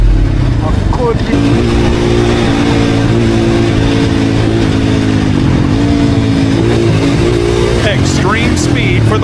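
A motorcycle speeds up to nearly 70 mph on a narrow road, its engine droning loud and steady throughout with a rising pitch, while voices murmur underneath.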